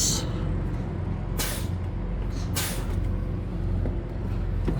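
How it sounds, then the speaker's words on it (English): A truck pulling a car on a tow attachment releases two sharp hissing bursts of air brake, loud and close, over a steady idling engine rumble. "Try the brakes."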